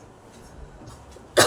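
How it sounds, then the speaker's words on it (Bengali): A single sharp cough bursts out at the end, after a stretch of quiet room tone. "কাশি আমার এখনো কমেনি"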